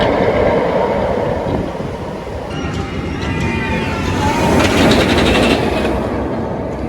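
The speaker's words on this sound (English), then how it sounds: "this is coined the B&M rattle, an audible noise that you can also hear when the coaster is riding over the track" A B&M roller coaster train on Behemoth rattles steadily over the track with a loud, dense rumble and clatter, plus metallic squeals and screeching partway through.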